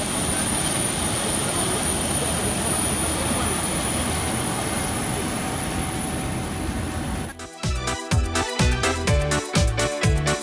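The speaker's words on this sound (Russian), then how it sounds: "И наш огромный самолет." A steady, loud roar of airplane jet engines fills the first seven seconds, then abruptly gives way to rhythmic, pulsing music.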